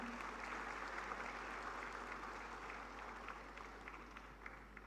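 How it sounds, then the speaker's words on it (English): Faint, distant applause for the chief guest fills a large hall at the XLRI Jamshedpur annual convocation. The clapping is steady and crowd-wide for about five seconds, over a constant low hum from the sound system. "Let's give her a very big round of applause."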